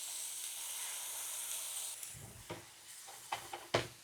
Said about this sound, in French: On va déglacer cognac.